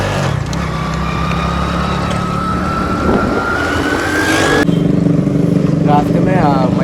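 A motorcycle rides along a dusty road on the way to a goat market, its engine a steady loud drone with wind rumble throughout, a rising whine midway, and a voice talking over it.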